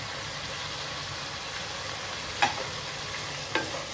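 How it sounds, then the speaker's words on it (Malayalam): Soaked tamarind being stirred into a fish curry in a pan: a low, steady simmering hiss with two short, sharp scrapes of the spoon against the pan, close by and with no talking. "ആ പുളി ഒന്ന് ചൂടായി വരാൻ വേണ്ടിയിട്ട് നമ്മൾ അതിനകത്തിട്ട് അങ്ങ് ഇളക്കും"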